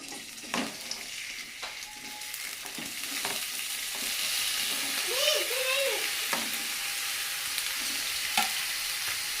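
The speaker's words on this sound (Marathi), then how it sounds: "आता आपण सर्वात आधी ह्याच्यामध्ये तेल टाकूया थोडंसं आता हा चिरलेला कांदा आपण ह्याच्यामध्ये टाकूया" Chopped onion hits hot oil in a pan and fries with a steady, close sizzle, punctuated by occasional stirring scrapes and brief faint voice sounds.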